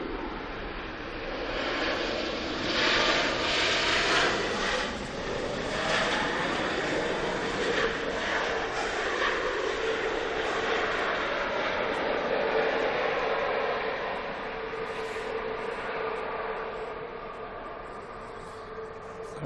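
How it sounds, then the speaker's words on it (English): An Embraer 195 jet from Vienna roars at Manchester Airport, a loud, broad engine rush that holds steady and then slowly fades, with no voices heard. "Embraer 195 from Vienna."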